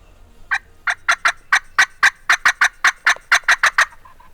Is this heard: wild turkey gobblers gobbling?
yes